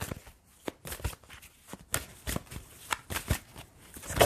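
Tarot cards being shuffled by hand close by, a run of crisp riffling bursts and soft flicks in an uneven rhythm, repeating over a few seconds with no talking.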